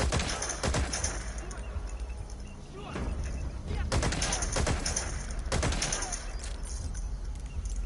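Gunshots in Metal Gear Solid V sound as several sharp, loud reports at irregular intervals over steady game ambience, with someone talking quietly between them.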